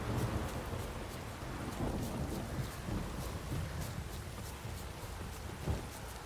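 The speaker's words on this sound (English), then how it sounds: "The storm, damn it." A storm in the video game Witcher 3, with steady heavy rain hissing throughout and low rumbling thunder rolling underneath, dense and continuous with no speech.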